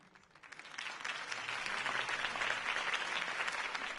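Crowd applause in a Batman Telltale video game scene swells from a light start into steady, sustained clapping and cheering, filling the space evenly throughout.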